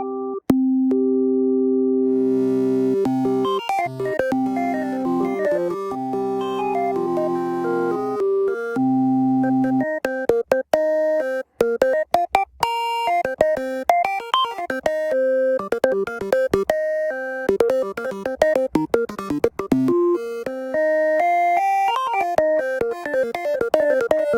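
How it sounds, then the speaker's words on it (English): FL Studio 3xOsc synthesizer with changed oscillator waveforms plays a long stretch of tonal synth notes, starting with held chords and moving into busy, clicky arpeggiated pitch runs, steady in loudness and with no voice. "we can change now waveforms on the other oscillators."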